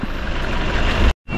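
Truck at a hillside project site in Itogon, Benguet, its engine rumbling close and steady with broadband road noise, cutting off abruptly near the end before faintly resuming.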